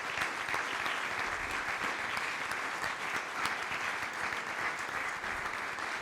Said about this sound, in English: A round of applause for Matteo Salvini